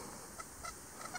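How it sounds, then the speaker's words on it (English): A metal detector used for relic hunting on a Pennsylvania mountain gives several short, faint high chirps at irregular moments over a steady outdoor hiss. "You can hear my detector chirping in the background."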